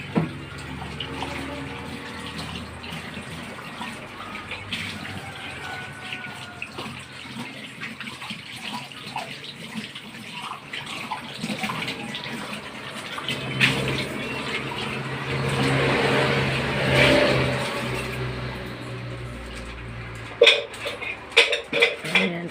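Running water from a tap splashing into a basin while dishes are washed by hand, with occasional clinks of dishes and pots, a surge of heavier flow partway through, and clattering near the end.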